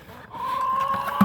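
A chicken lets out a long, rising cluck that trails into a couple of short clucks, close by and fairly loud.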